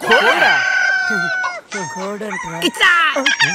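A chicken clucks and squawks loudly up close, a rising cackle followed by several shorter, choppy calls.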